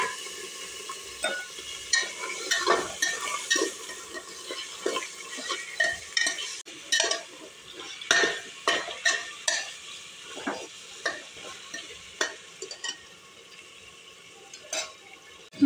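Mutton frying in oil with onion and ginger-garlic paste sizzles softly while a spoon stirs and scrapes the pot in repeated clinks and knocks, close by and with no speech.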